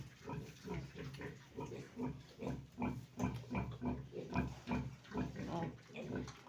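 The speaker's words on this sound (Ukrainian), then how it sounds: "От свиноматка отако лягла і хрокає по чуть-чуть." A sow lying down grunts softly and rhythmically, a steady series of low grunts close by.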